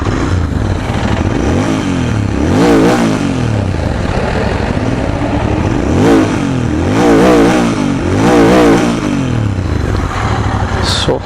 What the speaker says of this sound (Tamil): ஸ்டாக் வண்டி கம்பெனியில் வர எக்ஸாஸ்ட் நோட் தான் நான் உங்களுக்கு காட்டுறேன்